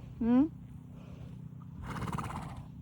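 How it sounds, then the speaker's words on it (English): A horse blows out a soft, breathy exhale during groundwork training, heard after a short, high, rising whinny-like call near the start, all over a low steady background hum. "When Eli let out a breath"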